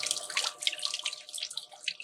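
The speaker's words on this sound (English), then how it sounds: "Has a little fountain on the front where the water comes out, spills into the pool at the base of it." Water from a small fountain on the front of a concrete, wood and foam Easter Island–style garden statue spills steadily into the pool at its base, a continuous close splashing trickle with no talking.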